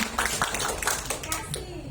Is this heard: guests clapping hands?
yes